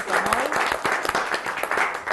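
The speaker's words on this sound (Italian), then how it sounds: "un bel applauso anche a lei" A studio audience applauds a guest arriving on an Italian evening television talk show, a short burst of dense clapping while a presenter's voice carries over it.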